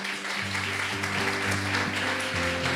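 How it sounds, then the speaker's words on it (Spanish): A church congregation applauds steadily over sustained, held notes of background music, the clapping forming a continuous dense patter throughout. "Dale un fuerte aplauso al Señor."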